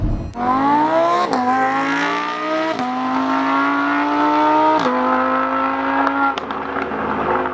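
A Lamborghini Huracan's V10, redlining at 8,500 rpm, revs hard and loud, climbing through several gear changes with short dips between rising pulls, close and alone without talk.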